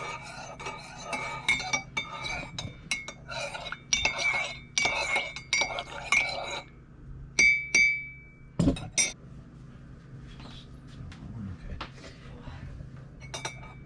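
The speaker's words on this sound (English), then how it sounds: "give that a stir so all your syrup and espresso are all mixed in real good" A spoon stirs syrup and espresso in a cup for a pumpkin spice latte, making a rapid series of bright metallic clinks against the sides, with a pause before a few last taps and a quieter tail.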